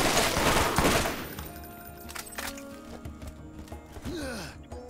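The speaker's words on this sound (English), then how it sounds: "this assault rifle's pretty accurate" Assault rifle fire in the video game Borderlands, a loud dense burst of rapid shots at the start that fades after about a second, followed by quieter game sounds and effects.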